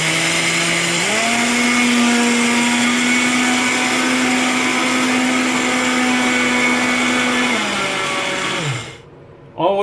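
An electric grinder whirs loudly as it powders about a cup of sugar into icing sugar, rising to a steady high whine for several seconds before spinning down and stopping.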